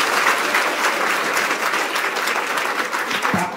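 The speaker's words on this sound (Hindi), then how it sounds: "तापे गोटे जोरदार ताली हो" A school audience in Odisha gives loud, sustained applause, many hands clapping steadily and close for the whole stretch.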